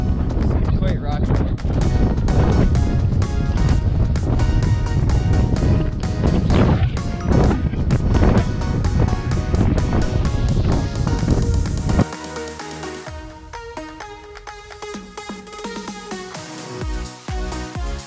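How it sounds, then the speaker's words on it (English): Strong wind buffeting a microphone near the rocky summit of Mt. Audubon, a loud continuous roar with gusty thumps and rustling, with a person speaking over it throughout. "It's windy over here."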